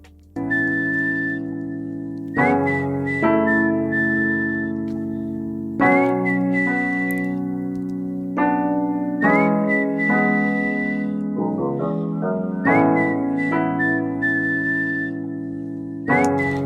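Melodic whistling carries a tune over sustained accompaniment in a song, clear and prominent, with phrases repeating throughout.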